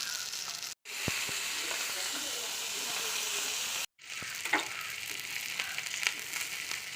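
Fish frying in a pan over a low flame, a steady close sizzle and hiss that cuts out briefly twice, with occasional soft pops and crackles.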